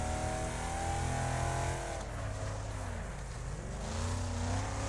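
Race car engines in the video game Wreckfest, on a dirt track called Bone Breaker Valley, roaring steadily and loudly throughout, with layered revving and pitch sweeps as several cars accelerate and shift, and no voices.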